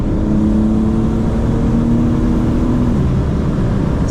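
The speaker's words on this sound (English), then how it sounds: "maybe we can hear what the car sounds like underneath the tunnel a little bit" A 2025 BMW M4 Competition xDrive engine drones loudly inside a tunnel, a steady sustained tone that holds for a few seconds then shifts lower as the revs change, with constant road roar.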